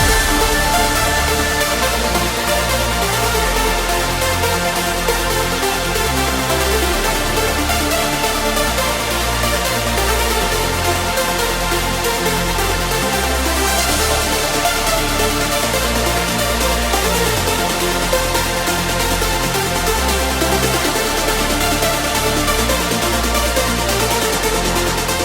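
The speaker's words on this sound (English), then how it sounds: "Today I show you how I produced a classic uplifting trance track in the style of a State of Trance by" Classic uplifting trance in the A State of Trance style plays continuously and loud, with steady driving beats and dense layered synths throughout, no talking.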